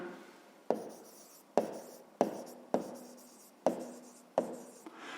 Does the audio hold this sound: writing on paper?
yes